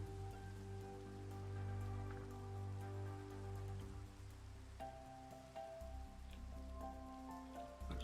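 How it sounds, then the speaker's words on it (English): Steady rain falls in the blocky world of Minecraft, a soft continuous patter with low rumble that runs the whole time beneath sustained musical tones, with no one speaking. "Raining again."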